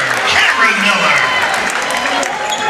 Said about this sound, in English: Monster block by Flint, which the crowd really enjoyed